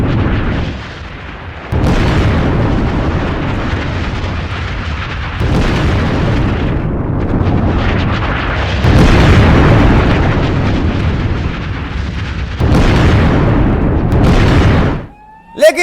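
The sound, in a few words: explosions from Israeli strikes on Hezbollah targets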